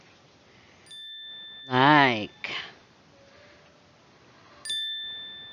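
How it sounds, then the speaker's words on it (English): A notification bell sound effect rings out twice as bright, clean dings separated by a few seconds, with a single spoken word and a short burst of another sound in between. "So don't forget to ring the bell buttons for the next notification."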